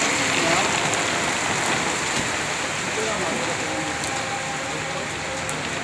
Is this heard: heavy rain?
yes